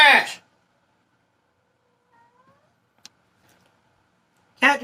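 A cat named Prash meows for attention: two loud, drawn-out cries at the start and end, separated by near silence with a faint squeak and a brief click between.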